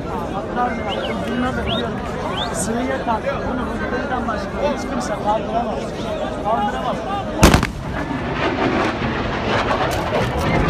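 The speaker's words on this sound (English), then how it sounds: "That was like a bomb or something. Just went off. And the boom, sonic boom." A single sharp, loud blast like a bomb booms out partway through, over a steady din of crowd chatter and voices on an Istanbul street during the coup attempt.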